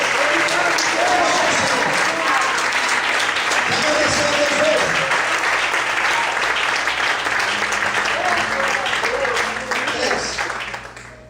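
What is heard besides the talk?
church congregation applauding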